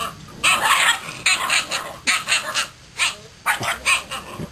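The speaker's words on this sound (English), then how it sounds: "These aren't puppies. They're demons. They're supposed to be half labradors." Half-Labrador puppies bark in repeated sharp bursts, several yaps in quick groups with short gaps, fairly loud and close, with no talking.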